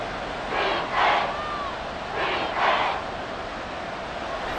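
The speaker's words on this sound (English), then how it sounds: "The Arrowhead crowd in full roar." Arrowhead Stadium football crowd roaring during a Rams at Chiefs game, two loud swelling surges of massed cheering rising and falling over a steady background hum.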